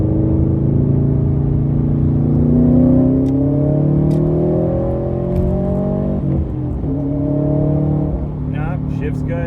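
The engine of a 2019 Subaru STI fitted with a Cobb short shifter hums and rises as it revs while driving, its tones climbing and dropping through shifts. A person talks over the steady engine drone.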